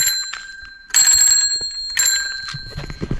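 Two bells on a custom bicycle ring out in bright, close bursts, a pair of sharp dings with a shimmering tail, separated by quieter clicks and handling noise.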